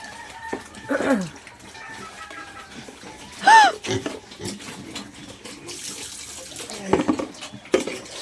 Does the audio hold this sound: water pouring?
yes